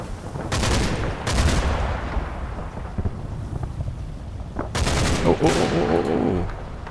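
Gunfire in the Combat Mission: Battle for Normandy war game, with two loud bursts of rapid rifle and machine-gun fire, a quieter stretch of scattered shots and rumble, then two more heavy volleys.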